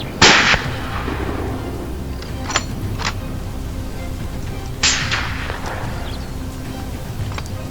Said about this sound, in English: This time, the gunshot rang out louder, a stern warning that we would not back down.